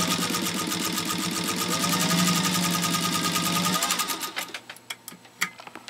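A Singer 201-2 sewing machine drives through a thick layer of cowhide leather with a loud, fast, even mechanical chatter, close up, then slows into a few separate thumping stitches before stopping.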